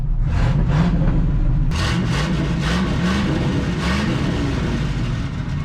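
A 1990 Ford F600 truck engine with carburetor trouble rumbles loudly nearby, its pitch climbing and falling in several repeated revs over a steady idle, with no talking.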